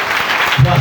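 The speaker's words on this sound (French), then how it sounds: "Mettons tous debout et acclamons le Seigneur pour ce témoignage." A church congregation breaks into applause, a short burst of clapping from many hands while a voice speaks over it.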